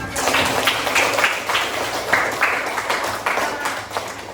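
A grade 10 class claps in applause, a fairly close, uneven patter of hands with rhythmic bursts of clapping that continues steadily and somewhat muffled throughout.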